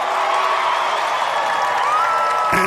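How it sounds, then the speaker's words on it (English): Families in a crowd cheer and whoop for young competitors at a junior ninja warrior obstacle course event, a dense steady roar of voices with a shout rising near the end. "all of these families are also cheering for everyone else's kids"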